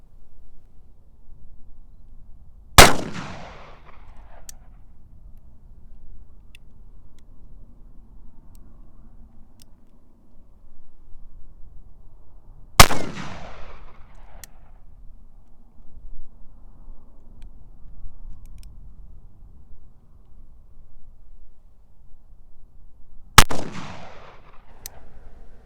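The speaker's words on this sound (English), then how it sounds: "I am going to load the gun one more time for you, 60 grains again, just 3 shots, and fire it over the chronograph" Three loud, sharp shots from a Colt Walker black powder revolver with a 60-grain load, fired over a chronograph at roughly ten-second intervals, each booming report trailing off into quiet outdoor ambience.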